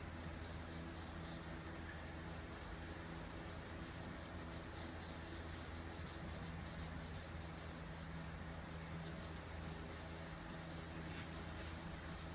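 Wood finished with a first coat of Envirolak being sanded by hand, a steady, continuous soft rubbing and scratching that stays quiet and even throughout, with no speech.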